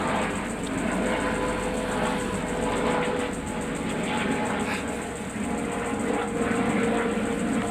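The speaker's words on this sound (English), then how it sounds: "This might be the sort of aerial coordination helicopter." A helicopter's continuous engine drone with a faint pulsing whir, steady and fairly distant overhead, filling the whole stretch without talk.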